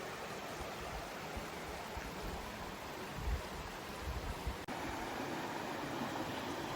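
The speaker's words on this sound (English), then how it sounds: "But the creek's neat. Check it out." Muddy creek flowing beneath an old farm covered bridge, a steady broadband rush of running water close by with no voices and only a brief low knock near the end.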